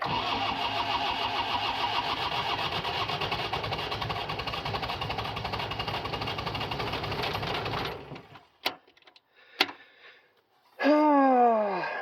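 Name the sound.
skid steer engine starting in cold weather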